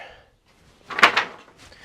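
A wooden bottom door on a turkey tractor swings and bumps shut, one short muffled knock with a quick rattle, close by and alone.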